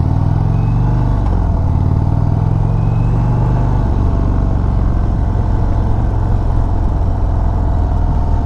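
Riding a 2023 Indian Springfield Dark Horse with its 116 engine: a steady, loud, close low engine drone with throbbing rumble that eases off slightly early on, continuous with no talk.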